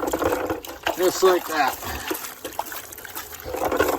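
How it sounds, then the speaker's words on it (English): Water splashes and sloshes over gold-prospecting material during a cleanup, a continuous wet rushing with a few stronger surges, while someone speaks briefly over it. "Just give it a few splashes here and there."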